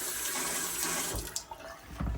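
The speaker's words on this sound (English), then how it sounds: "And just run a little water." Water runs steadily from a tap into a sink, a close, continuous splashing hiss with a brief gurgle partway through.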